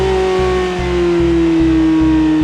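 A Ferrari 360's V8 engine holds a steady, droning idle with a rhythmic low pulse repeating about every half second, loud and close.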